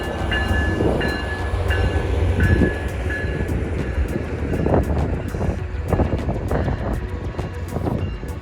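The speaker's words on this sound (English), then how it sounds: "There's the train." A train rolls past close by, a steady rumbling wash with wind buffeting the microphone and faint tonal squeals riding on top throughout.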